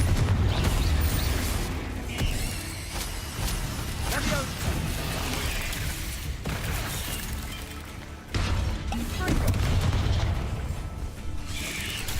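Repeated booming explosions from the Confringo blasting spell in Hogwarts Legacy, rumbling loud and continuous against busy game sound, with a voice speaking now and then.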